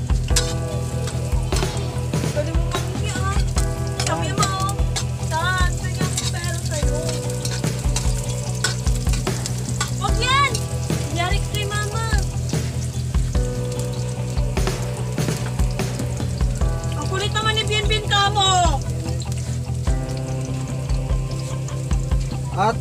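Ginger and onion fry in a pan for a papaya dish, giving a loud, continuous crackling sizzle with a steady low hum beneath and frequent bright stirring clinks; no one talks.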